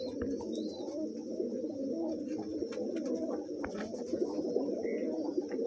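Malwai Punjabi pigeons coo steadily and close by, a continuous soft low burble with occasional faint chirps, and no talk.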